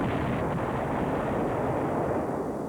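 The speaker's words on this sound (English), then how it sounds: "Two massive explosions 4 minutes apart destroy a chemical plant and rock the Nevada" Two massive chemical plant explosions in the Nevada desert, a broad, continuous rumbling roar, loud and steady like a distant massive blast echoing across open ground, with no voices.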